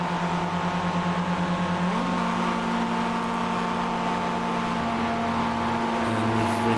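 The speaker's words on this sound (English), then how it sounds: "And we hear him drafting up to us." Race car engine drone in the iRacing sim, a Pontiac Solstice with another car drafting up close behind, steady loud tones shifting pitch around two seconds and again near six seconds, with no talking.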